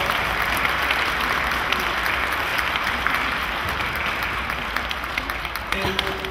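An audience at the Three Kings Epiphany procession in Miękinia applauds steadily for about six seconds, a thick, even roar of many hands at close range with no break.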